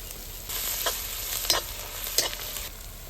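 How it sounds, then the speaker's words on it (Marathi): Onion, green chili and tomato sauté in a pan with a soft, steady sizzle while a spatula scrapes and stirs, its strokes sounding as a few light, quick scratches. "कांदा हिरवी मिरची चांगली परतून झालेली आहे आता आपण टमॅटो टाकतोय"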